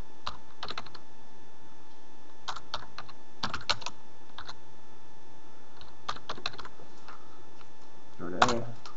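Computer keyboard typing in short clustered bursts of quick, crisp key clicks separated by pauses, close and moderately quiet over a faint steady hum, with one sharper click at the end.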